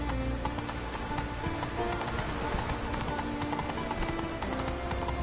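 Hooves of the horse Roach clip-clop steadily at a gallop in The Witcher 3, a dense continuous patter with a brief whinny-like tone, loud and close throughout.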